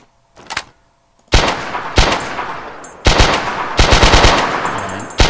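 Gunfire in a third-person shooter video game: a couple of short quiet clicks, then rapid loud automatic bursts in three long volleys with brief pauses between them, close and dominant.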